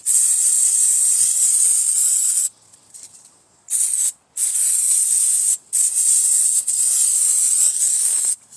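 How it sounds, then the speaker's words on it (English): Lubricating spray hissing from an aerosol can along tool blades, in several long bursts separated by short pauses, loud and close. "Maybe spray some along the blades."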